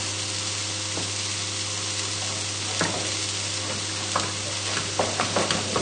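Milk being stirred into mashed potato in a pan, heard as a constant low sizzle and hum with soft scraping and clinking stirring strokes that grow busier toward the end, with no talking.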